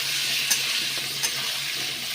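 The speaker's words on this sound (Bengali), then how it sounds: "আলুটা এবার খুব আমার ভালো করে ভাজা হচ্ছে" Potato pieces frying in hot oil for a Bengali prawn and potato kosha, a steady close sizzle with two brief stirring scrapes, no voices.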